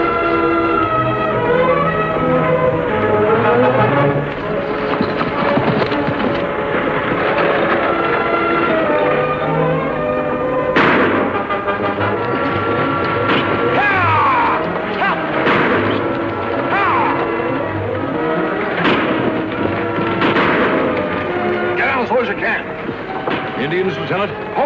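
Gunshots ring out in an old western radio drama, a few sharp, loud reports that crack through a busy, continuous background of sound effects and music.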